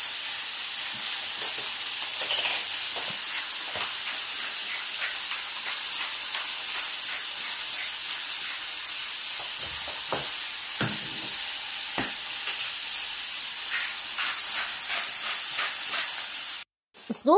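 Onions and garlic frying in a pan for a chicken strips dish, with a steady close hiss and sizzle broken by scattered pops and stirring clicks, briefly cut off near the end.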